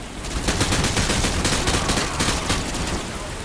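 Rapid automatic gunfire rattles almost without pause in Call of Duty: Modern Warfare 2, loud dense bursts of shots filling the scene with a busy, crackling battle din.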